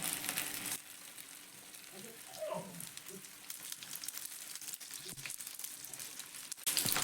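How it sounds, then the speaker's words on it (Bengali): Tiffin snacks fry in medium-hot oil for a school and office lunch made with winter vegetables, a steady crackling sizzle running throughout, with a brief softer pause early on and a louder burst near the end. "একটু লালচে করে এই টিফিনগুলোকে ভেজে নেব"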